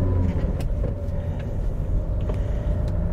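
VW Jetta MK6 driving on the road: a steady low engine and road rumble heard from inside the car, with occasional faint knocks and no talking.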